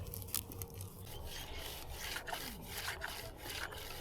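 A chisel scraping and digging into soil at an 1880s rail stop bottle dump, with steady gritty scraping and rubbing strokes, close and fairly quiet, no talk.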